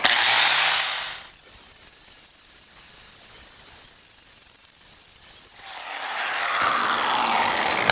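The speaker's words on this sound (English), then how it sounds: "we're going to go ahead and grind these flush" An angle grinder grinds welds flush on a steel shop crane, a harsh, bright whine in bursts at the start and end with a quieter gap between, up close and with no talk.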